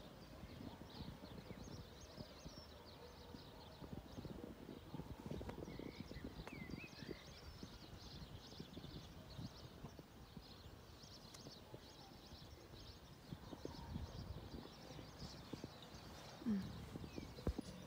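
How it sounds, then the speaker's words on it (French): A trained pony's hooves clip-clop softly and at a distance on a prairie, in a loose irregular walking rhythm with faint birdsong in the background. "C'est mon poney que j'ai réussi à dresser."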